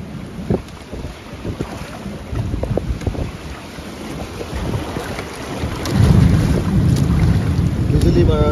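Stormy wind buffets the microphone aboard a boat on the Brahmaputra river, gusting irregularly over the hum and splashing of the moving craft and swelling into a loud roar near the end.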